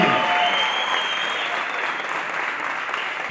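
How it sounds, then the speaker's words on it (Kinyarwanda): Applause from a crowd at an award presentation after a half marathon, dense and steady, already underway and fading slightly toward the end, with no voices on top. "Tubakomera amashyi"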